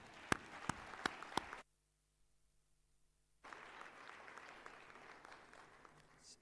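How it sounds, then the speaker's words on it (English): Applause at a graduation ceremony: a few loud, sharp claps open, then a near-silent gap, then a sustained wash of crowd clapping from a large audience. "Let's give them a warm round of applause."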